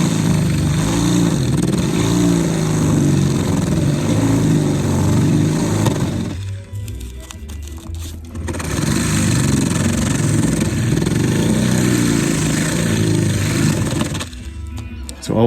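A high-speed motor tool drills out rivets on a TJet slot car chassis, making a loud, continuous grinding whine that cuts out for about two seconds midway and briefly again near the end.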